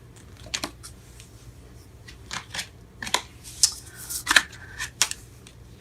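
Tarot cards being shuffled in quick riffling bursts, with crisp papery flutters and taps scattered through the clip, fairly close and moderately quiet.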